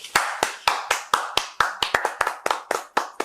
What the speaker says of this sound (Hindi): आप सब लोग तालियां बजाइए